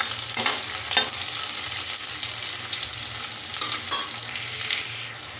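Onions fry in a pan for potato carrot sabzi while being stirred, a loud close hiss of oil broken by several scraping spatula strokes, with no speech.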